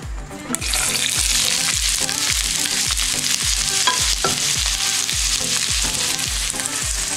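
Onion and garlic frying in hot oil for pancit canton guisado, a loud continuous sizzle with rhythmic low thumps and scrapes of stirring roughly twice a second, close and without talk.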